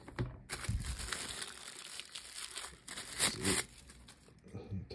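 Glossy retail packaging for a Carpodgo T3 Pro CarPlay adapter crinkles and rustles as the box is opened, with bursts of crackling and handling noise running through, and a voice talking at points alongside.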